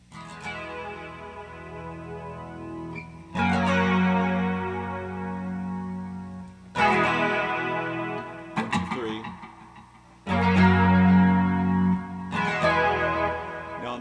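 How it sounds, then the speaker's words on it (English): Heavily distorted electric guitar chords from a song ring out in several bursts, each struck loudly then sustaining and decaying before the next. "He's definitely got distortion on that."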